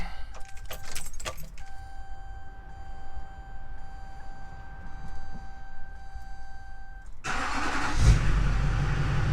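Keys jangle, then a Chevrolet Silverado 2500 with a Duramax LLY diesel, freshly fitted with a new fuel filter and primed fuel system, cranks briefly and fires into a loud, close rumble near the end.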